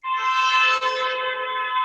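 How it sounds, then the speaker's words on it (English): A single long, sustained horn blast sounds nearby, a steady multi-tone honk that starts abruptly, dips briefly midway, then continues alone for nearly two seconds. "As the cars are honking in the"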